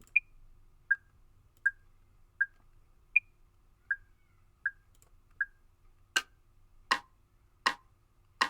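The BandLab default metronome ticks in a steady, even pulse of sharp, short clicks with a brighter accented beat every four counts, then shifts to a few broader, noisier clicks at the end, isolated and fairly quiet.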